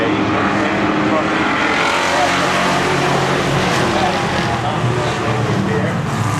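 Race cars at a NASCAR opening-day race at Seekonk Speedway, with loud engines blending into a continuous, dense roar as the field runs close by.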